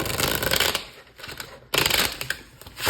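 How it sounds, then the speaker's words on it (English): Oracle cards are shuffled by hand in close, crisp bursts of riffling and slapping, two main rounds separated by a brief pause. "We're going to shuffle the cards."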